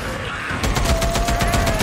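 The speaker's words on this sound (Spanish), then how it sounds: "Tenemos aquí la ametralladora." A machine gun fires in the zombie-horde video game Days Gone as a rapid, steady burst of shots, loud and dense, over a background of game noise, with no talking.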